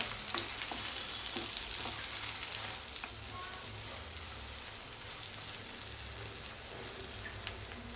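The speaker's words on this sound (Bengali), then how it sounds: "এখানে আমি আধা কাপের চাইতে কিছুটা কম পেঁয়াজ কুচি, 2টা এলাচ, 3টা তেজপাতা আর 1 টুকরা দারচিনি দিয়ে মশলাটাকে ভেজে নিচ্ছি।" Chopped onion with cardamom, bay leaves and cinnamon frying in a pan for a baby's peas chicken dish, giving a steady, fairly quiet broadband sizzle with faint crackles throughout, no voices.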